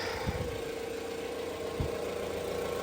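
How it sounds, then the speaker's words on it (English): A Jeep Compass engine idles steadily with a low, even hum during a radiator replacement, faint and continuous with no talking. "engine is running"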